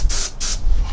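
Two brief hissing puffs of an airbrush test-spraying a piece outdoors during a Mossberg 590 shotgun coating, close by, separated by a short pause.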